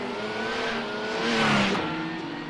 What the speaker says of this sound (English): I just wanted to hear the Audi going by.